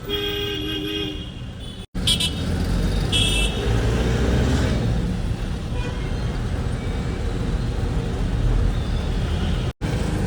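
Busy road traffic: a continuous rumble of passing vehicles, with car horns tooting near the start and again a little later over the steady roar.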